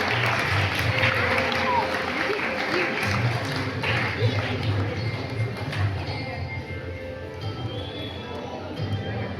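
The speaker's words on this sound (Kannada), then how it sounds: "ಚಪ್ಪಾಳೆಯೊಂದಿಗೆ ಪ್ರೋತ್ಸಾಹಿಸಬೇಕಾಗಿ ವಿನಂತಿ" Audience applause at a prize distribution ceremony for children's competitions, a dense steady clapping from a crowd filling the whole stretch, fairly loud and continuous with some background voices mixed in.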